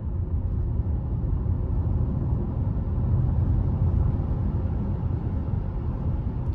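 Inside a Volkswagen ID.7 electric car accelerating in sport mode, a steady low road and motor rumble fills the cabin, holding loud and even without any voices.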